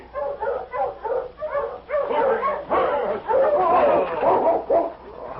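A husky sled dog barks and yips in a rapid, excited series of close, loud bursts with whimpering tones, a sound effect in an old-time radio drama set in the Yukon.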